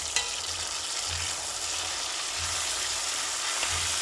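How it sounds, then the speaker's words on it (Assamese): Peeled tomatoes fry in a pan with a soft, steady sizzle and occasional faint stirring scrapes, fairly quiet and close, with no talking. "এইখিনি ভাজি ল'ম, ধুনীয়াকৈ ভাজি ল'ম।"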